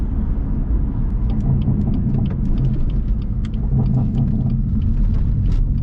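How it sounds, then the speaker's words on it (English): Engine and exhaust rumble from a 2018 F80 BMW M3 Competition with a DCT gearbox while driving, a steady deep drone heard continuously from inside the car, with faint higher clicks and rattles over it. "Then the Sport Plus mode really gives it that exaggerated exhaust sound with the burbles."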